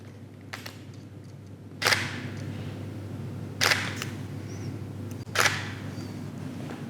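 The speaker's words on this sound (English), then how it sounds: "So let me take the shot with just this light here first of all," A camera shutter fires three times at evenly spaced intervals, each a sharp, close click paired with an off-camera flash during a two-light portrait setup, over a quiet room hum with no talk.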